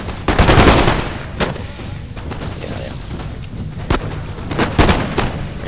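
Musket volleys from riflemen and line infantry in a Total War battle, scattered sharp cracks and rolling fusillades, some near and loud, others farther off, with a voice talking over the fighting.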